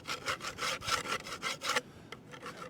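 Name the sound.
scraping painted wood surface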